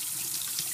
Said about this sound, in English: You can slide it all the way off the hose, the airline hose. Just kind of rinse it out.